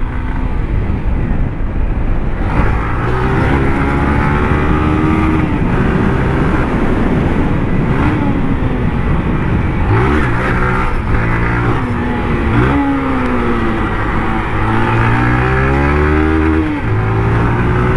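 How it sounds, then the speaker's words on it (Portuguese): A small new motorcycle rides loudly over neighbourhood speed bumps, its engine droning close and continuous with rising and falling revs as it climbs and bumps along, with no talking heard. "Primeiro rolezinho aí na nova motinha da Mil Grau, moleque"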